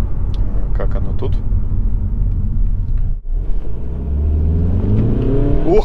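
A SEAT Ateca accelerating after a short delay on the pedal, its engine rumble swelling into a rising rev toward the end, with a voice talking over the cabin noise.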